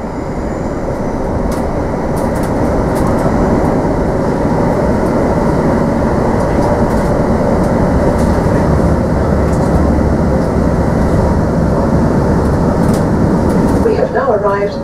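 A train rumbles loudly on the rails as it rolls in and slows at Heathrow Terminal 4 on a TfL Rail service from Paddington, steady low roar throughout with an announcement voice over it.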